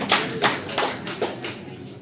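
Brief scattered applause from an audience at a public development meeting in Poway, California: a handful of claps close together that thin out over two seconds.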